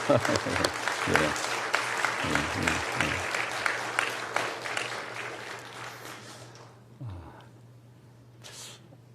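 Congregation clapping in a church, a lively round of applause from many hands with a few voices mixed in, fading out after several seconds and leaving a quiet room with a steady low hum and a faint stray noise.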